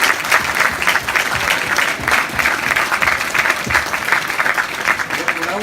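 An audience at a mountain festival talk gives a steady round of applause for a speaker, dense and sustained throughout with no pause.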